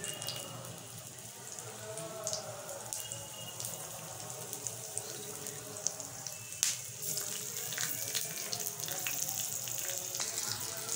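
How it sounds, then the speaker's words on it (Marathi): Stuffed chilies fry in hot oil, giving a steady crackling sizzle with scattered pops and spits, close and moderately quiet, running continuously with no voices. "तर तुम्ही बघू शकता अशा प्रकारे आपल्या मिरच्या तेलामध्ये मस्तपैकी भाजतायत."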